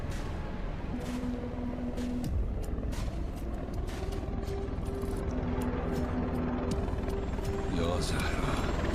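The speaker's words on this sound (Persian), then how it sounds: "هلیکوپترها؟" Helicopters fly overhead in an Iranian animated series, a steady, loud rotor roar that fills the whole scene with continuous churning noise and sharp clattering bursts layered on top.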